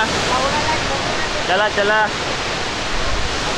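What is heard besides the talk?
waterfall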